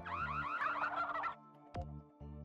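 A selectable buzzer sound on a Buzz! quiz game for PlayStation 2, a loud comical gobbling, turkey-like noise followed by a sharp swooping blip and a short tonal tail, electronic and alone.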